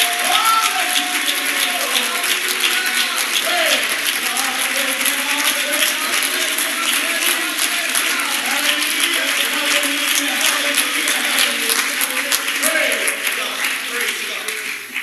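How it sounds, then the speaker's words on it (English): Church congregation clapping together in a sustained, dense burst of applause for about fifteen seconds, with voices mixed in under the clapping and a slight fade at the end. "Let's clap our hands one more time."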